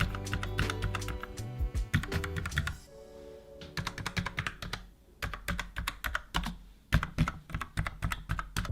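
Typing on a Logitech MX Mechanical keyboard with tactile quiet switches, rapid bursts of close, crisp keystrokes in uneven runs, separated by brief pauses.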